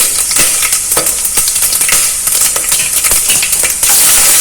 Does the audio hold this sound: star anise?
yes